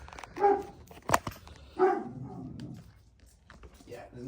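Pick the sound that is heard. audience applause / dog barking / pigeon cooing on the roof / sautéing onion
dog barking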